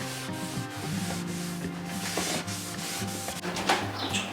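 Steady, close rasping of sandpaper scrubbing back and forth across a wooden surface inside a camper van, continuous with no voices.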